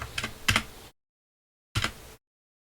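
Keys on a computer keyboard are typed in two short bursts, a quick cluster of clicks followed by silence and then a brief second run of taps, fairly close and clear with no talking.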